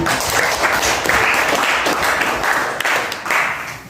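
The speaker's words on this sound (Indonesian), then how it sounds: "berikan tepuk tangan buat Kevin." A classroom of students applauds a classmate after a persuasive speech, steady group clapping filling the room at a constant level, with a faint voice or two underneath.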